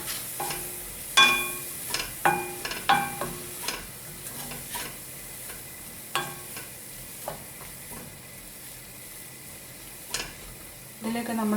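Flour is stirred into sautéed vegetables for chicken stroganoff, with a spoon clinking and scraping against the pan in a run of sharp knocks over a faint sizzle, then sparser taps later on.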